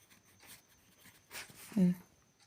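A pen scratches softly across paper while jotting notes, faint scribbles with one slightly firmer stroke near the middle, close and quiet.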